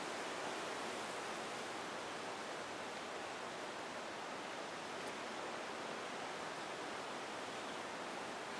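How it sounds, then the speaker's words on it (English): A large waterfall in a forest clearing in northern Madagascar, heard as a dense, continuous broadband roar of falling water, steady and unbroken, with no voices. "it's a clearing in the forest, looking down on this quite impressive waterfall"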